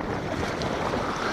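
Gusty wind buffets the microphone by the water during a worm fishing outing, giving a brief, dense, steady rush with no one speaking.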